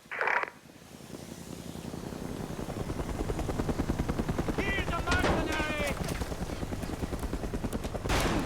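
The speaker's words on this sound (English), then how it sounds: "PLAV chopper inbound." Military helicopter in Mercenaries 2: World in Flames approaching with a steady rotor drone that grows louder, a short burst of gunfire near the start and scattered shots later.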